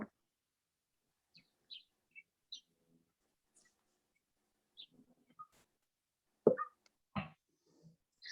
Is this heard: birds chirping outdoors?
yes